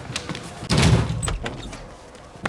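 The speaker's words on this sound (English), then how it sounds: "Break the door down." A door is broken down with a heavy slam and thud, followed by trailing knocks and rattling and a final sharp bang near the end, with no talk over it.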